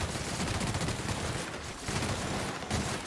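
A plasma gun fires continuously in The Outer Worlds during a fight with a burrowing behemoth. The dense, steady stream of shots is loud and close, with brief lulls, and no talk over it.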